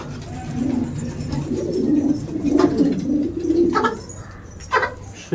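Pigeons coo nearby in low, throaty, repeated calls that overlap one another, with a few sharper bird sounds and faint background noise.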